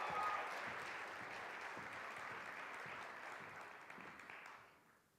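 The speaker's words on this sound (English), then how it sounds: "Everyone, please give a round of applause to Ashley Johnson" Audience applause for a speaker at a TEDx event, a dense sustained clapping from a large crowd that holds steady and then fades out near the end.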